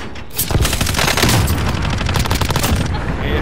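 Dense, loud gunfire from a Call of Duty Warzone Resurgence battle royale match, with rapid overlapping shots and booms running almost the whole way through, close and continuous.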